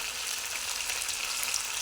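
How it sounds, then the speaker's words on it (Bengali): Cauliflower and potatoes frying in a pan for a spiced curry, cooked outdoors over a wood fire: a steady, close hiss of sizzling oil with faint crackles, continuous and even throughout. "এখানে ফুলকপি আর আলু ভাজা করছি, ফুলকপি আলুর কষা করব।"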